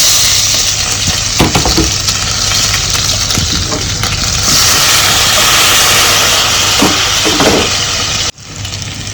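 Shallots, ginger and green chili sizzle steadily in hot oil for a Kerala-style tapioca stew, a loud continuous crackle with a few stirring scrapes, cutting off abruptly near the end.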